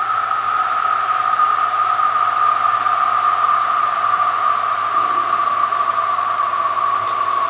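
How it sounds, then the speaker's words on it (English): A Monarch Unipoint X36A radial arm saw with a 16-inch blade runs idle, giving a smooth, steady, loud high-pitched whine and hum with no cutting. "being that it has a 16-inch blade, it really sings. Really smooth running machine. Just listen to it."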